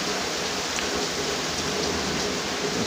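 Rain comes down hard during a small storm in Oxford, Michigan, an unbroken roar of drops on surfaces nearby with occasional brighter splashes and no talk.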